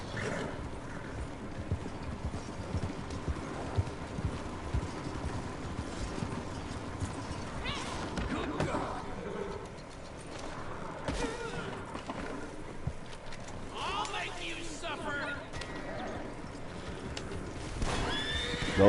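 In the Red Dead video game, a horse's hooves clip-clop steadily close by while it gives several whinnies, with creaking mechanical sounds and brief faint voices mixed in.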